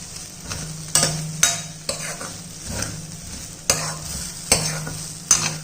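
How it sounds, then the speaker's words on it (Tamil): A spoon scrapes and clatters repeatedly against a pan while vegetable wheat rava upma cooks, with a soft sizzle underneath and sharp irregular knocks every second or so, close and clear with no talk. "எல்லாத்தையும் மிக்ஸ் பண்ணிடுவோம்."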